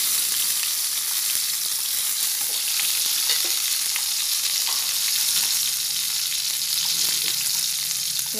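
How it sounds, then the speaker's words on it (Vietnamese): Shrimp stir-fried in a pan with golden garlic sizzle steadily and loudly up close, with occasional light scrapes and taps from stirring and no voices. "Mình xào những con tôm này trước."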